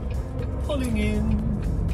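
Lorry pulling into a busy yard, a close engine rumble with a rising then falling whine as it slows, with a voice speaking briefly.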